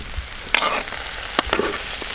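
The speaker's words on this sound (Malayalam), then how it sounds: "അതിനകത്തോട്ട് നമ്മുടെ ചങ്കം കൂടി ഇട്ട് കൊടുക്കുക" Beef heart pieces dropped into a pan of onions frying in masala, a close steady sizzle with a few sharp stirring and scraping strokes.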